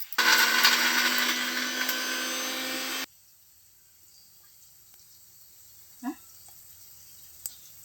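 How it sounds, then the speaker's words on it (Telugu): A kitchen mixer grinder whirs loudly and steadily for about three seconds while grinding ingredients for chicken biryani, then stops abruptly, leaving a quiet room with a couple of faint knocks. "ఒకసారి పట్టుకుంటున్నాం. ఇది కొంచెం ఇంకా మెత్తగా కావాలని."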